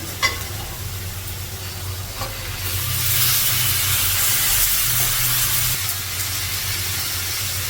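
Pieces of fish for a Telugu fish curry (chepala pulusu) fry in a pan with salt, coriander powder and ginger-garlic paste, giving a close, continuous sizzle that swells louder midway and then settles slightly.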